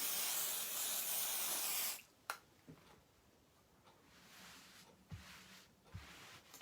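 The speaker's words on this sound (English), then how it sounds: "Now I can fold up the other side, spray that on there." An aerosol can sprays onto fabric in one steady, loud hiss lasting about two seconds, followed by quiet handling noises and small taps.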